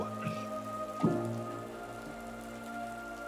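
Steady rain patters on a surface as a tabletop game sound effect, a soft continuous hiss with a low hum beneath and one faint knock, no voices.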